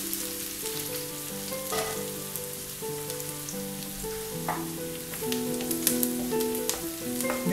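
Curry leaves sizzle steadily in hot oil in a pan for a Sri Lankan soya meat curry, a close, continuous crackling hiss with scattered pops, under soft background music.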